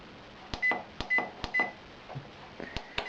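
A multicooker beeps sharply several times in an uneven series of short electronic tones as a program is set, close by, with light handling clicks between them.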